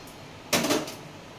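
A single clattering clunk as boiled drumsticks are lifted out and dropped into a bowl, a short metallic kitchen knock with a little rattle that quickly fades, close and alone.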